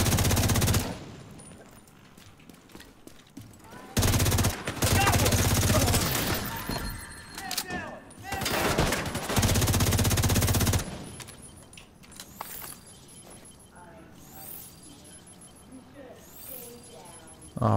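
Bursts of automatic gunfire in The Division 2 during an invaded Potomac Event Center mission, loud sustained volleys separated by quieter gaps with sparse single shots and faint game sounds.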